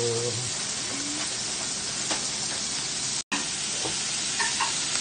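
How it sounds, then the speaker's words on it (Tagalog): Pancit noodles being sautéed in a pan for a Sunday meal, a steady broad sizzle with stirring and scraping throughout, one brief dropout midway, and faint voices in the background. "Ito na po ang ating pansit. Gisa-gisa ng Ricardo"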